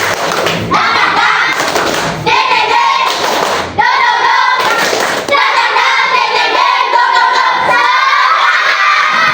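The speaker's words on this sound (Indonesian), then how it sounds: "Sekali lagi, tepuk semangat." Students in a classroom clap in bursts of rhythmic spirit claps, with thumps and taps on desks mixed with voices calling out, loud and close, in several short patterned rounds.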